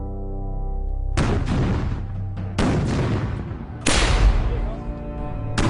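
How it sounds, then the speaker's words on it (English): Three heavy booming cannon blasts from an artillery barrage land about a second apart, each followed by a rumbling tail, over a steady low drone. "and increases the cannon barrage"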